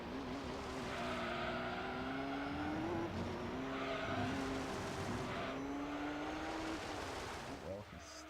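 A race car slides and squeals its tires in the Gran Turismo 3 video game, its engine a steady, droning, pitch-shifting whine throughout, with someone talking over it.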